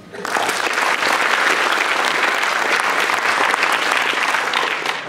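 Warm, sustained applause from a PyCon PL 2016 conference audience at a lightning talks session, rising quickly and holding loud and even for about five seconds before tapering slightly.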